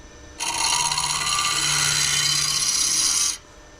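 A negative rake scraper cuts across a maple burl bowl, giving a steady, close, raspy scraping that runs unbroken for about three seconds under a faint low hum, then stops.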